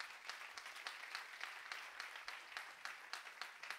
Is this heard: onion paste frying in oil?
no